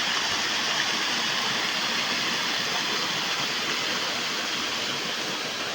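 Balanipashi's Gadgadi waterfall roars as a steady, dense wash of falling water, loud and close, unbroken for the whole stretch with no voices over it.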